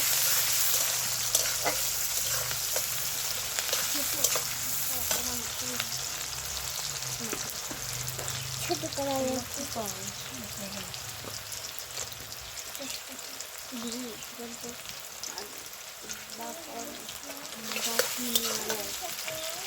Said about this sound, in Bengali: এই যে এখানে পেঁয়াজ কুচি দিয়ে দিল, পেঁয়াজ কুচিগুলো কষা নেবে